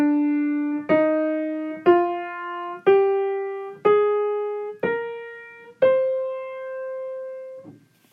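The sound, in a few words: C natural minor scale being played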